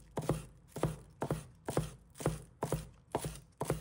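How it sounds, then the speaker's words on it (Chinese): A knife chops scallion greens on a cutting board in a steady rhythm of about eight crisp, close strikes with no talking. "葱叶切成葱花"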